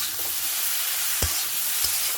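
Food fries in a pan with a continuous dense sizzle and hiss, broken by two brief louder pops, with no voices.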